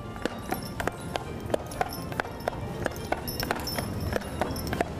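Hooves of draft horses clip-clop steadily on the pavement of Disneyland's Main Street, a regular walking rhythm of sharp knocks at moderate distance, with faint background voices.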